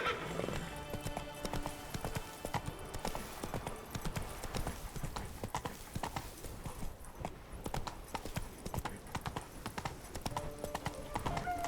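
Roach the horse galloping in The Witcher 3, with rapid, steady hoofbeats throughout and a neigh near the start, close and clear over faint background sound.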